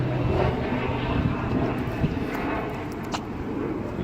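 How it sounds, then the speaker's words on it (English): A fixed-wing airplane flies past close to an airport, a broad, steady roar that swells and fades gently over a few seconds, with light wind buffeting on the microphone. "as soon as this plane gets done flying by"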